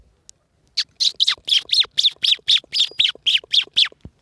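A human voice imitates a sparrow, giving a quick run of about a dozen sharp, evenly spaced chirps, loud and close.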